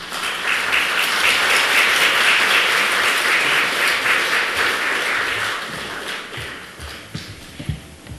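Seminar audience in a church hall applauds to welcome a speaker, loud dense clapping that tapers off into scattered claps and light knocks near the end.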